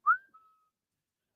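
A single short whistled note, clear and fairly faint, rising slightly and then holding briefly before fading out, alone in silence.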